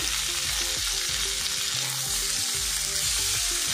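Chopped tomato with fried spices sizzles steadily in a hot pan, a close, continuous crackle broken by the soft scrape and clatter of stirring, with no voices.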